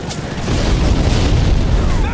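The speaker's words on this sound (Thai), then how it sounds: "เราฟังระเบิด" A heavy, rumbling grenade explosion in the video game Call of Duty: Modern Warfare 3 booms and rolls on, loud and dense, filling the whole moment with deep low-end thunder.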